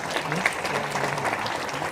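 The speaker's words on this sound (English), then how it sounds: "Let's give yourself another big, massive round of applause." An audience at a corporate prospectus launch claps in a short burst of steady applause, many hands together filling the room for a couple of seconds.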